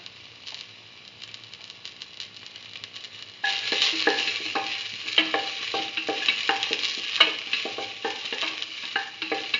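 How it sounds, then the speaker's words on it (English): Garlic frying in a pan with a soft sizzle that jumps louder partway through, overlaid with busy close scraping and clinking of a stirring spoon. "Put in the garlic."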